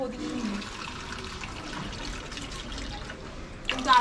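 Water pours and trickles as drooping plants are watered. The flow is soft and splashy and swells louder toward the end.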